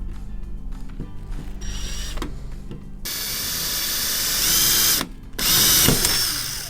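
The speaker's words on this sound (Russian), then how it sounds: "ну и сверливаем" A power drill with a 5.5 mm bit whirs briefly, then bites into an aluminium frame with a loud grinding whine that pauses once and resumes; no one speaks.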